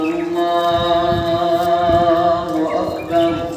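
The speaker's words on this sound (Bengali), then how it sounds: "ফজর আজান পড়তেছে গাইস" A dawn Fajr call to prayer, the azan, rings out as a sustained, loud melodic chant that holds steady across the stretch, with faint outdoor background beneath it and no talking.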